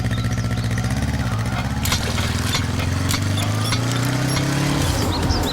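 A motorcycle ridden through a movie climax scene, its engine droning loudly and continuously with a pitch that rises and shifts, under a busy layer of background clatter and effects.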